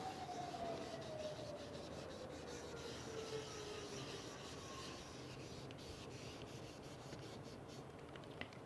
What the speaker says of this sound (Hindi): ये मैं रब कर रही हूँ।